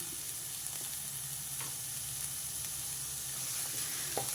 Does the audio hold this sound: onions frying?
yes